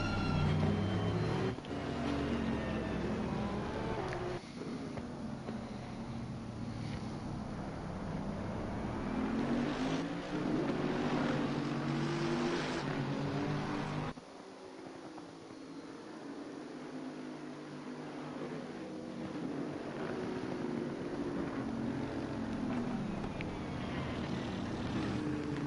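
Race cars rolling around Monza on a guided formation lap in a racing video game, a steady layered engine drone with shifting pitch as cars pass, dropping to a quieter hum partway through, with no voices.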